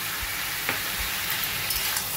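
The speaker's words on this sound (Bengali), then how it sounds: "ভালো করে মিশিয়ে নিয়ে সবজিটাকে একটু ভালো করে ভাজা ভাজা করে নেব।" Drumstick and pointed gourd vegetables fry in a pan with salt, turmeric and Kashmiri chilli powder, giving a steady close sizzle with a few soft stirring knocks throughout.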